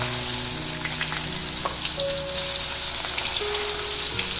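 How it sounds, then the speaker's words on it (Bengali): Chopped onions fry in hot oil for a Bengali rui fish curry, giving a steady, close sizzle with faint crackles and no talking. "এবারে আমি এর মধ্যে দিয়ে দিচ্ছি পেঁয়াজ কুচি।"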